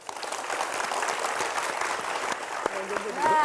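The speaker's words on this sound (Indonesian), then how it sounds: "Tepuk tangan dulu dong buat Pak Anton Teddy." Brief applause from an evening seminar audience greeting a guest on stage, moderate and diffuse under a host's voice, with a sharp tonal sound breaking in near the end.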